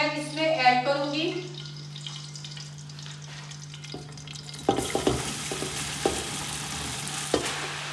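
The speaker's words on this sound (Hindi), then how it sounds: "अब इसी स्टेज पे मैंने जो राइस उबाल के रखे हुए हैं वो मैं इसमें ऐड करूंगी।" Boiled rice tipped into hot ghee infused with cardamom for Punjabi-style jaggery rice, bringing a sudden louder crackling sizzle with stirring and clatter over a steady background hum.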